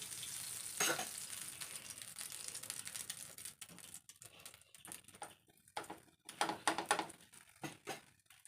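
Nool parotta fries in oil on a pan with uneven sizzling, a hissing bed broken by sharp bursts of crackle that rise and fade near the end.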